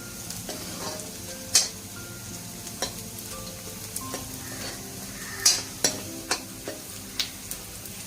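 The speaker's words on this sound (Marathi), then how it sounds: "मी यात कांदा होत असताना शेंगदाणे घातले आहेत." Chopped onions and peanuts fry in a pan with a continuous sizzle, punctuated by several crisp clinks and scrapes of a spoon against the metal, heard close with no speech.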